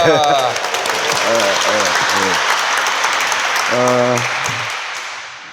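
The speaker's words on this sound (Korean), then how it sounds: "이 관련해서 큰 박수로 모시겠습니다." Sustained audience applause at a citizens' forum on establishing a labor court, steady and dense throughout, with brief spoken voices and a raised speaker's voice cutting through during the clapping before it tapers off.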